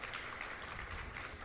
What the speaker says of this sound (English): Can I get a bigger round of applause for our women in education?